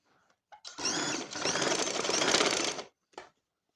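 A sewing machine stitches a school uniform coat collar, one sustained fast whirring run of about two seconds, preceded and followed by brief clicks and short mechanical bursts.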